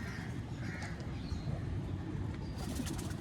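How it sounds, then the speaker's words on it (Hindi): Pigeons kept by a fancier coo softly at a distance, low murmuring calls blending into a steady background hum with a few faint bird chirps. "नबील भाई, शुरू हो गए आने कबूतर"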